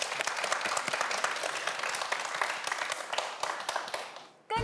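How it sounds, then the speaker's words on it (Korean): Studio audience claps for two student quiz contestants, a brisk, crisp burst of applause that fades out before a sharp cut at the end. "멋진 경쟁을 펼쳐준 두 학생 모두에게 다시 한번 큰 박수 부탁드립니다"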